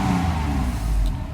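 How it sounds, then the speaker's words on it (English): A Mercedes 600SL engine revs up briefly on a light press of the throttle, a steady close mid-range engine note rising and easing off, with no talk over it. "So that was just a slight press on the gas."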